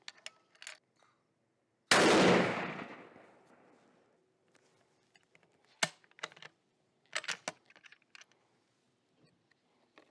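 A single loud rifle shot fired at a paper target while zeroing a scope. It cracks sharply and trails off in a rumbling decay over about two seconds, with scattered soft clicks and handling noises before and after.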